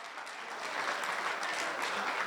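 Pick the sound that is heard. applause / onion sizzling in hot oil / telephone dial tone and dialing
applause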